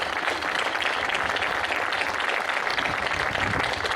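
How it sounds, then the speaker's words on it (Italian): Theatre audience applauding after a show, with a dense, steady wash of many hands clapping that holds at full strength throughout, close and loud, with no talk. "questo applauso lo fanno anche per me, per te e per voi"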